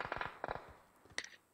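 Rapid bursts of distant gunfire in the video game PUBG, two quick volleys of several shots each, then a single sharper crack, fairly faint overall.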